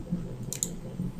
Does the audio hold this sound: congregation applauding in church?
no